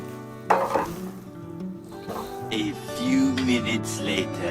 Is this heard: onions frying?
yes